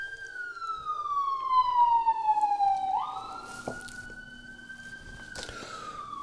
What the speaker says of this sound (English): Still live in the city, still have to deal with sirens.